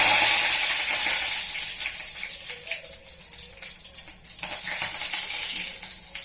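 Loud hot-oil sizzle as cumin, cinnamon, curry leaves and asafoetida are tempered, bursting up at first then settling into a steady crackling fry, with occasional light clinks nearby and no talking.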